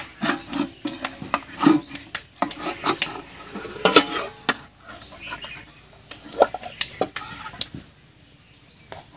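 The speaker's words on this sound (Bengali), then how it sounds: "এবার ঢাকাটা খুলে দেখাচ্ছি যে রান্নাটা কেমন হয়েছে" A pan of tilapia curry is uncovered with clattering metal lid and utensil knocks, a run of loud close clanks and taps that ease off toward the end.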